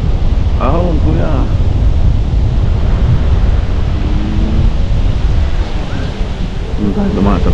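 Wind gusting steadily over the microphone during a scooter ride along a riverside path in Canada, a constant loud rushing roar that fills the whole clip, with brief voices and faint tonal sounds breaking through now and then.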